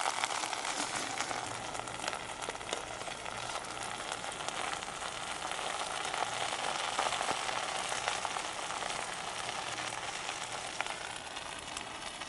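Pancakes with butter and syrup warm in a pan on a trail camp stove, giving a steady, quiet sizzle that runs evenly throughout with no talk.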